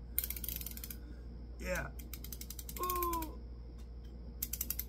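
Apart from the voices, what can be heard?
torque wrench clicking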